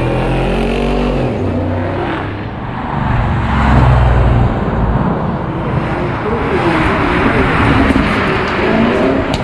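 A race car accelerates hard down a drag strip, holding first gear for a long stretch, with a loud, raw engine roar that swells and shifts as it pulls away.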